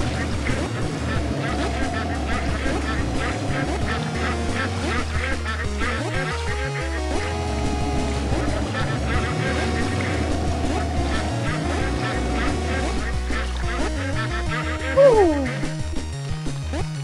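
Ducks quacking in the side-scrolling game Legend of the Brofist, heard against busy game music and sound effects, with a voice faintly present.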